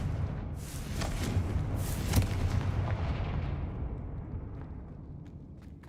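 A Confringo blasting spell in Hogwarts Legacy sets off a heavy booming explosion that swells, peaks sharply, then rumbles and fades away over several seconds.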